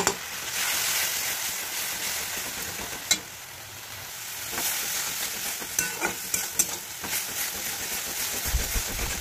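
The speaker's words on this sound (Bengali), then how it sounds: "টমেটো পেস্টটা দিয়ে ভালো করে নাড়তে হবে, কাঁচা গন্ধটা চলে যাওয়া পর্যন্ত।" Tomato paste and ground coriander, cumin, chilli and turmeric fry in a pan, a close rough sizzle with repeated sharp scrapes and clacks of a spoon stirring, uneven and busy throughout.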